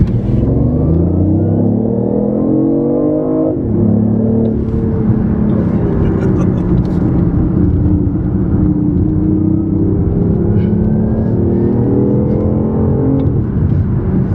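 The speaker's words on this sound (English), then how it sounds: "I'm gonna gut it." A 2015 BMW i8 accelerating hard at full throttle, its engine note loud and close, rising steadily through the revs with audible gear changes dropping the pitch before it climbs again, continuous and without talk.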